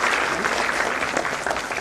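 Audience applause at a government event at the Ambedkar International Centre in Delhi, a steady, dense clapping from a large crowd, loud and continuous throughout, with no speech over it.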